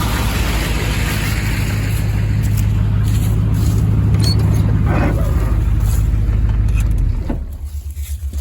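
An old truck that has sat unused since 2022 idles loudly up close, a steady rumbling drone that cuts off abruptly near the end, leaving a quieter background.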